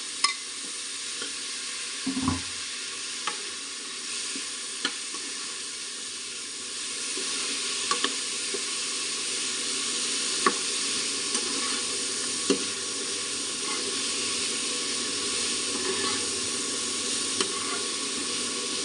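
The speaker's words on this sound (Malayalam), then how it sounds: "നേരത്തെ നമ്മൾ കട്ട് ചെയ്ത് വെച്ചിരിക്കുന്ന മത്തങ്ങ കഷ്ണങ്ങൾ ഇതിലേക്ക് ചേർത്ത് കൊടുത്തിട്ട് നന്നായിട്ട് തന്നെ ഒന്ന്" Cut pumpkin pieces fry in a pan with a continuous loud sizzle and steamy hiss while a utensil stirs them, giving occasional soft clicks and scrapes, close up with no talking.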